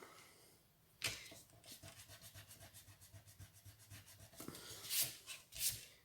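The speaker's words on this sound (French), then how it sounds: "Et ça, là, c'est faux. Je vais le gommer." Eraser rubbed over a pencil mistake on a paper pop-up card, a run of quick back-and-forth scrubbing strokes, close and fairly soft, with a couple of sharper swipes near the end.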